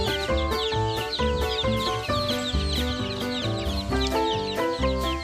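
Backyard chickens cluck over a layer of tonal background music, their short calls scattered and fairly close.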